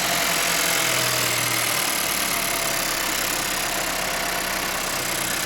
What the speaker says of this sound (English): Here is the engine sound, guys.